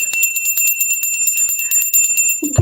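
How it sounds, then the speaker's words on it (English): A small bell rings continuously in a bright, high, sustained shimmer with steady tones and quick repeated strikes, close and fairly loud, before a brief low voice sound at the end. "just ring the bell for a second."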